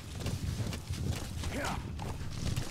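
A horse's hooves clip-clop in the video game Metal Gear Solid 5: The Phantom Pain, a quick repeated patter of steps under people chatting.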